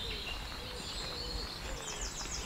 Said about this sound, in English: You can hear all the birds singing.